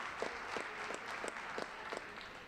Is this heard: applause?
yes